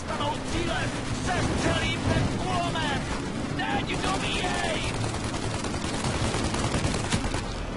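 Rapid machine-gun fire in Mafia: Definitive Edition, aimed at a police tank, comes as continuous bursts under loud game ambience.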